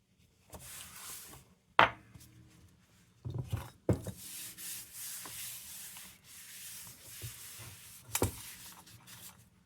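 A cloth rag rubs and scrubs against a metal smudge pot in uneven strokes, with a few sharp clanks of the metal shifting between bursts of wiping.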